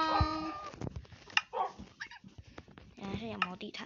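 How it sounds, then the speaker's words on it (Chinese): Dogs bark in a Minecraft village, with a few short, game-style yelps scattered across a few seconds while a person talks over them throughout. "这边是我的狗狗猫咪的村庄。"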